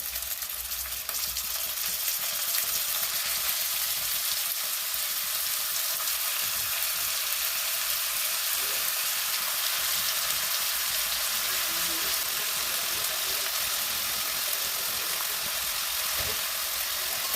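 Small pieces of mutton frying in plain oil in a karai, giving a loud, steady, close sizzle like a broad hiss that holds without pause throughout, with no speech.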